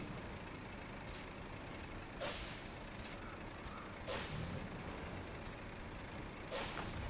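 Truck with a trailer in the snowy off-road game SnowRunner: a steady engine drone with sharp air-brake hisses bursting out several times at irregular intervals, no talking.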